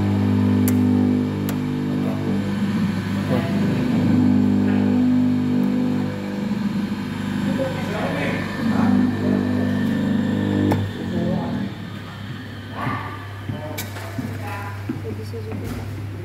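Single-phase electric motor switched back on and running with a steady low hum, close and fairly loud, while people talk over it.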